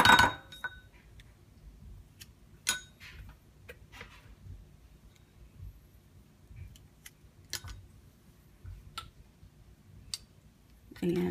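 A spoon stirs melted shea butter and coconut oil in a glass container, giving scattered light clinks and taps against the glass over a quiet background, sparse and close.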